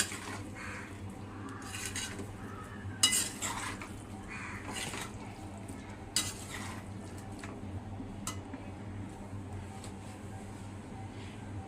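Metal spoon scraping and clinking against a pan as potatoes with spices are stirred, irregular knocks over a low steady background hum.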